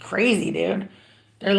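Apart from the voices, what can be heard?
No distinct noise like a dog, phone or traffic.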